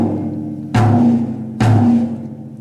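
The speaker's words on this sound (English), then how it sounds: "the high tom, and this is a 12-inch tom," A 12-inch high tom is struck twice, about a second apart. Each hit has a sharp attack and a ringing pitched tone that fades, loud and close, with no voices.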